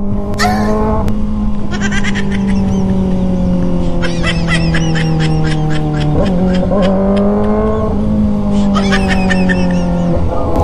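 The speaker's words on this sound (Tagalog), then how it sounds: "Anong ginawa mo sa tambutso ko, Nico?" A Kawasaki ZX-4RR motorcycle revs its engine in a continuous high-pitched wail, rising and dipping across several throttle blips with a few sharp pops. It is loud and close throughout, with no talk.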